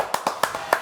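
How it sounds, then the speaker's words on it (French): A handful of separate, close hand claps in an uneven rhythm at a New Year's Day television show, each one sharp and distinct against a quiet background. "Applaudissements pour Lola, Isa et Lysia."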